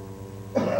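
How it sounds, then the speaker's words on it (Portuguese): A sudden burst of coughing breaks in after a moment of low murmur, harsh and close, lasting to the end. "A tosse, a tosse,"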